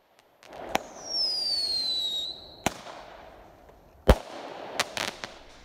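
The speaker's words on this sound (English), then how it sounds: "Thousands of Tasmanians have celebrated a traditional cracker night with bright fireworks displays brightening the sky" Fireworks at a Tasmanian cracker night party: several sharp, loud bangs spaced a second or more apart, one whistling rocket rising before a blast, and distant crackling between the reports.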